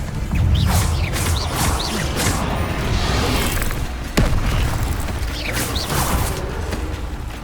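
Spell casting in the video game Hogwarts Legacy, a dense run of loud whooshes, booms and crashing magical impacts with a sharp crack near the middle, continuous and close.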